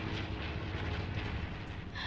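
Aircraft engine drone from a plane in a video game, a steady low broadband roar holding at even loudness throughout, with no voices over it.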